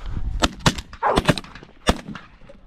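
Shotgun blasts during a goose hunt, several sharp close shots in quick irregular succession with faint goose honks between.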